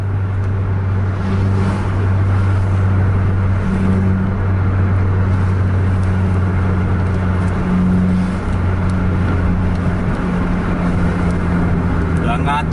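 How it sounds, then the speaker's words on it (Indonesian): A Volvo-engined coach pulls away hard on an open road, its steady, loud engine drone and road rumble running unbroken from start to finish. "Ngacir tuh Volvo."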